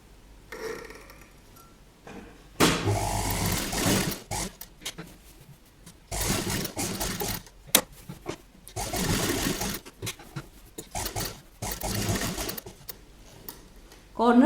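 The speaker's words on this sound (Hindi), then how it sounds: "अब हम इसे 1 फुट की डिस्टेंस पर सिलाई लगा लेंगे" A sewing machine stitches kurti fabric in several loud bursts of rapid needle chatter, separated by pauses where someone talks.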